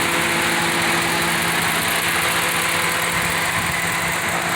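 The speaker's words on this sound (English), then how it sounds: "the Hemi, I mean, it sounds like it should sound" A 2014 Ram 1500 Hemi V8 idles with a steady, deep rumble and constant hum, close and fairly loud, with no speech over it.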